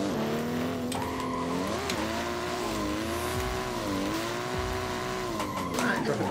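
BMW M2 with 800 horsepower drifting in the Assetto Corsa game at the Nürburgring, the engine droning loud and close with wavering pitch and tire squeal and skid noise, with some talk over it.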